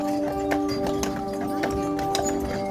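Horses clip-clop at a carriage barn on Mackinac Island, hooves striking in a steady, fairly even rhythm at close range over a constant background hum, with no talking.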